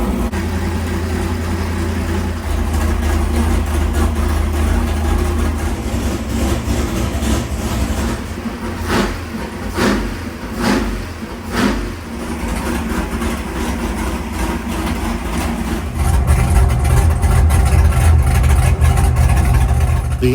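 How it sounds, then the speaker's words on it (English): A 434 small-block V8 nitrous engine idles on a dyno, a loud, low, lumpy rumble close by that dips briefly mid-way and then swells louder toward the end, with no talking. "The engine sounded really good as we fired it up"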